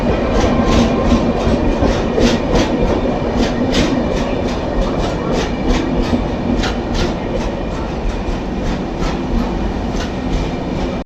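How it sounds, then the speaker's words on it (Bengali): Garib Rath Express rushes past on the adjacent track during rain, a loud continuous roar of wheels with rhythmic clickety-clack bursts throughout, close and steady, with no talking. "আর এই পাশ থেকে কিন্তু একটা এক্সপ্রেস ট্রেন যাচ্ছে।"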